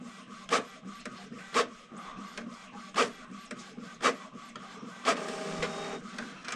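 An ink printer prints a page for print-then-cut crafting, with repeated thumps of the print head carriage about once a second over a soft mechanical rub, then a steadier whirring feed at the end.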